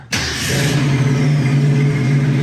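A 1973 Ford Bronco engine cold-starts with a quick crank and fires right up, then settles into a loud, steady, throbbing idle heard up close from inside the cab.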